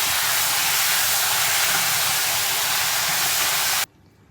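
Beef hisses and sizzles steadily in a hot pot as it is stirred, a loud continuous frying hiss that cuts off abruptly near the end, with no voices.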